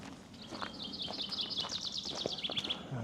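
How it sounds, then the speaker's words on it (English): Birds sing in a Kent forest along a hiking trail, with quick high chirps and trills strung through the clip, fairly faint and distant over soft outdoor background noise and a few light footsteps. "There's birds singing."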